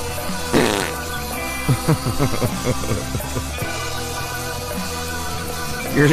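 A voice imitates a series of wet, sputtering fart noises, loud and close, in several bursts with short gaps between them.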